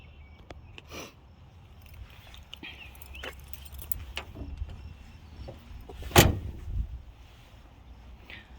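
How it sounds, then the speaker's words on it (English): A single sharp, solid thump of a 1980 Chevy Malibu door shutting rings out near the middle, amid quieter clicks, rattles and small handling noises. "Doors all close as they should."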